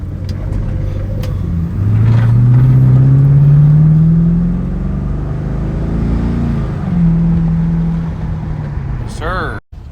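A 2010 Chevrolet Camaro SS with a newly replaced throttle body drives off, its V8 engine rumbling and rising in pitch as it accelerates, easing and then pulling again, loud and close from inside the car.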